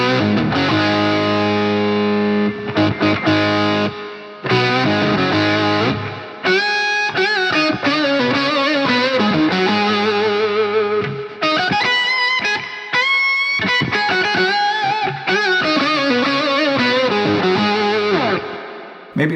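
Sonicake budget octaver guitar pedal with every control turned up full, giving a thick, distorted electric guitar tone with stacked octaves; chords and riffs play continuously for about twenty seconds with brief pauses, loud and close.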